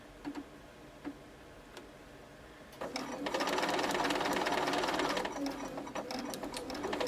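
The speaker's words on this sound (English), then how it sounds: "And just sew till I'm all the way off my fabric." A sewing machine stitching a dart in fabric at reduced stitch length: a few isolated clicks, then a steady fast mechanical whirring run of several seconds that tapers slightly, close and alone.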